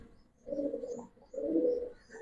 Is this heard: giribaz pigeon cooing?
yes